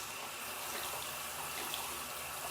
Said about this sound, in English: And then I'm going to rinse my sponge out